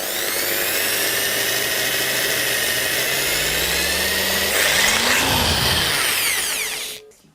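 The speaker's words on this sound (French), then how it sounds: "Pour percer le métal, on doit toujours avoir une vitesse de rotation lente pour la perceuse" Electric drill with its speed dial set to the slowest setting bores slowly into metal, a close steady whine that shifts pitch partway through, then cuts off abruptly at the end.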